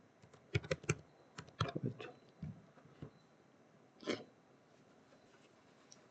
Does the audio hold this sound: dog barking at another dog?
no